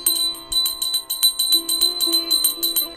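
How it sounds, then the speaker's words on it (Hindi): A hand bell rung during a Hindu aarti ritual gives quick, rhythmic metallic strikes with bright ringing overtones, clear and alone for a few seconds. "उल्टे हाथ से आप घंटी को बजाते रहिए।"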